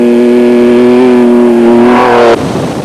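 Raceco desert race car at the Toyota 1000 Desert Race, engine note climbing loud and close as it accelerates, then cutting off abruptly into a rougher, fading rush.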